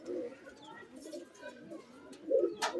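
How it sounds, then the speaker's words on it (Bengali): A domestic pigeon at close range gives soft, low, rolling coos with a short burst near the end, over faint room noise. "তারা অনেক পায়রা দেখেছে তো, হ্যাঁ এই পায়রাটাকে ভালো করে শো করাচ্ছে।"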